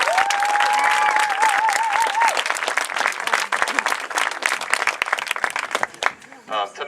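Applause and cheering from a crowd of parents for high school marching band kids at a football game, dense and loud. A brief whistle rings out at the start and the clapping thins near the end.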